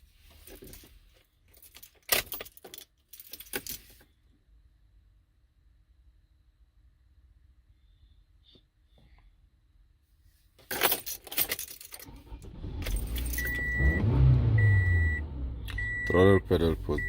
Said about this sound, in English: I'm gonna turn the key off, turn it on, clear the codes.